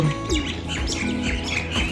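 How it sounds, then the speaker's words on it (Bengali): Several birds chirp and tweet continuously outside a cottage in snowy Himachal Pradesh, with quick overlapping calls close by and a faint background hum. "আমরা তো ভুলতেই বসেছি পাখির আওয়াজ।"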